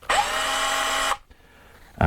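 A Makita LXT 17 mm cordless hammer drill whines steadily at high pitch for about a second, then stops, with a brief restart at the end.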